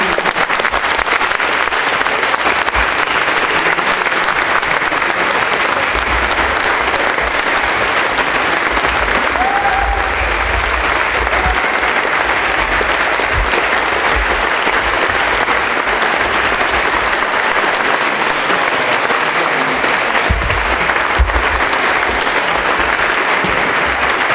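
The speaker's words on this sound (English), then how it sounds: "I refuse to interrupt the applause because they deserve every moment of it." Sustained applause from a large audience, steady dense clapping filling the whole stretch without a break.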